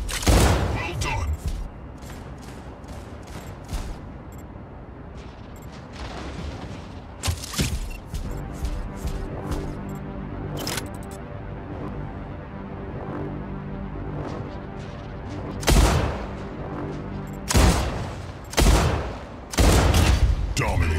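Mech gunfire in the Mech Arena video game, loud bursts and volleys of shots with booming impacts over sustained battle noise, and a game announcer's voice cutting in between the volleys.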